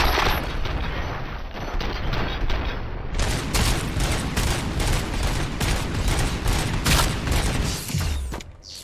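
Gunfire in RoboCop: Rogue City: sustained, loud volleys of rapid shots hammer away almost nonstop, dense and close, with sharp individual reports standing out through the barrage.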